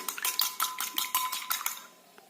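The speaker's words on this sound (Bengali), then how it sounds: "এইবার খুব ভালো করে আমাদের ডিমটাকে বিট করে নিতে হবে" Egg beaten in a bowl for a pudding, fast rhythmic whisking clinks of utensil on the bowl, about a dozen close, crisp strokes that fade out at the end.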